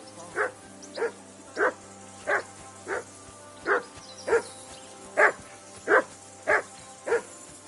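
Steady, evenly spaced barking from a single dog repeats about eleven times, each bark crisp and moderately loud above a faint low hum.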